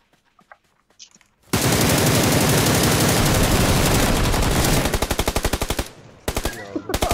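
Automatic gunfire in PUBG Lite: after a few quiet clicks, a long continuous burst of loud machine-gun fire runs for several seconds, breaks into separate shots, pauses briefly, then resumes in short bursts.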